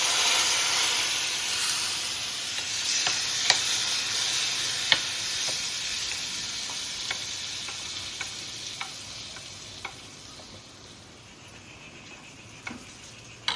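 A hot tempering of chilli flakes and cumin is poured into a dish, giving a loud, close sizzle and steamy hiss that slowly dies down, broken by scattered clinks and stirring sounds, with no voices.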